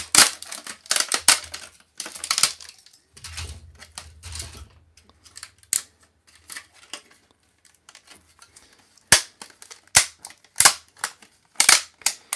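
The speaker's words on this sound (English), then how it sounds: "It's always so loud cracking these off there." Sharp plastic cracks and snaps come in irregular bursts as supports are broken off a 3D print, some loud and close, with brief quiet gaps and faint rustling between them.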